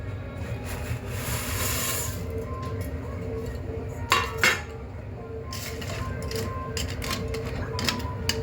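Dry Maggi noodles are dropped into a metal pot of water, close rattling clinks and knocks of the block against the pot, scattered irregular taps over a steady background hum.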